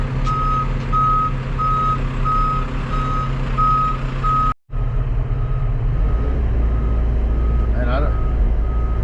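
An older dump truck backs up on a rough job site, its reversing alarm beeping in a steady, evenly spaced series over a loud diesel engine rumble, with a brief dropout midway.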